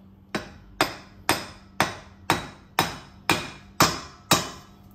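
Nine sharp metallic hammer taps, close and evenly spaced about half a second apart, drive a ring into a Yamaha Drive golf cart transaxle during a bearing replacement.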